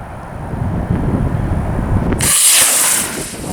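A test-flight rocket engine ignites with a sudden loud roaring hiss that cuts in over a steady rumbling background and holds briefly, close and harsh.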